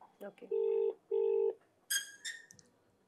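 A phone call is placed: short dial-tone beeps, then two steady ringback tones in a row, followed by brief faint speech, all quiet and close.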